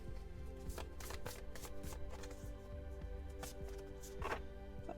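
Tarot cards are riffled and shuffled by hand in a close, quiet recording, giving repeated crisp flicks and soft papery rustles in irregular bursts with no talking.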